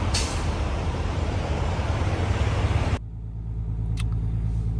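A hotshot truck's engine idles at a raised speed in sub-zero cold, first under a loud broadband hiss that cuts off abruptly, then as a steady low drone alone.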